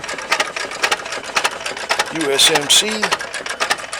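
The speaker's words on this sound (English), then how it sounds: "That's a perfect survival motor." A 1911 farm engine runs with a steady, rhythmic mechanical chuff and tick, about three or four beats per second, close by under men's conversation.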